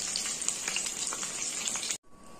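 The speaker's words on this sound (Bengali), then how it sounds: "এই দেখো পটলটা ভেজে নিচ্ছি" Pointed gourd (potol) fries in a pan with a loud, close, continuous sizzle and crackle of hot oil, which cuts out sharply near the end and then resumes more faintly.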